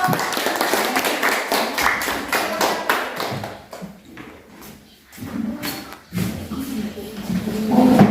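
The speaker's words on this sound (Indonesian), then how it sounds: "Tepuk tangan dulu." Classroom applause after a student presentation, a burst of clapping from a group of students that thins out midway, then picks up again with some voices and bumps.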